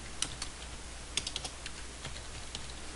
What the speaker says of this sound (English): right here I'm going to type in wind speed